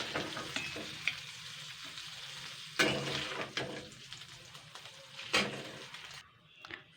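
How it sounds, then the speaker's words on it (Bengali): Fish fries in hot oil in a pan, a steady close sizzle with scraping stirs and a couple of sharper clacks of a utensil, the frying continuing alone without speech. "এবার আমি এটাকে কিন্তু ভালো করে ভেজে নেব মাছটাকে"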